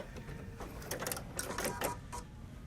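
A quilting sewing machine finishes a seam on a paper-pieced birdhouse block with one or two short back stitches, a few brief close bursts of mechanical stitching over a steady low hum.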